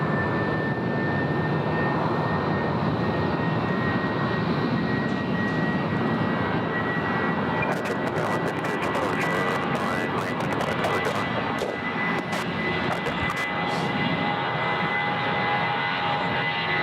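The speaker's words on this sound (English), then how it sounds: "Jetstar 403 off to Sydney. The A320 rolling now." A Jetstar Airbus A320 rolls for takeoff on runway 14 at Gold Coast Airport, bound for Sydney: a loud, sustained jet-engine roar at full thrust, heard from nearby with scattered crackling.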